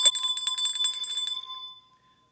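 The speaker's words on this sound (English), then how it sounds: "ringy-ding that bell" A small bell is rung live several times in quick succession, bright and close, then its tone rings out and fades to silence.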